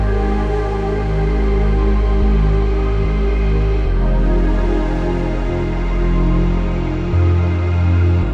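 Loud, dense synth chords over a deep, heavy bass line in an FL Studio beat, with the bass notes shifting every second or so under a steady, sustained harmonic wash.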